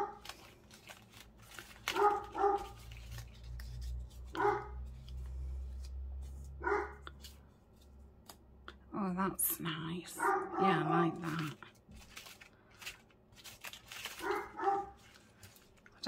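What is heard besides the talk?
dog barking at the window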